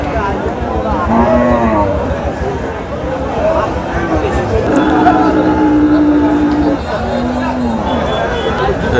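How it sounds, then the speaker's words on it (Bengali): Cows mooing at a busy rural cattle market, several long low calls rising over crowd chatter and someone talking close by, with steady background bustle throughout. "আমাদের সামনে যে হাড্ডি গাই গরুগুলো রয়েছে"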